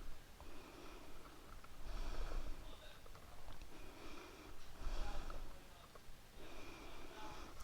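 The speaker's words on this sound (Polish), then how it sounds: "Miękki wdech, miękki wydech." Soft, slow breathing in and out, repeating in gentle waves, quiet and close with faint background noise.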